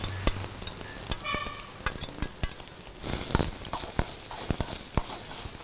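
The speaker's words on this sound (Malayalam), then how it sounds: "ഉള്ളിയും കൂടെ അതിലിടുക ഉള്ളി പഴറ്റാനായിട്ട്" Crushed coconut, red chilli, cumin, garlic and onion sauté in hot oil with a steady sizzle, punctuated by frequent sharp taps and scrapes of a spoon stirring, louder and busier in the second half.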